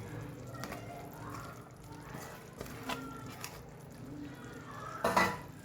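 Grated paneer and cheese being mixed in a pan, heard as quiet scraping and soft clinks of a utensil against the metal, with a brighter clatter near the end.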